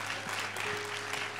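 A church congregation applauds with dense, steady clapping that fills the room throughout the short stretch.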